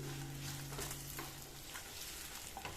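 Paneer 65 sizzling in a pan over a gas flame, a steady close frying hiss with faint stirring scrapes and no talking.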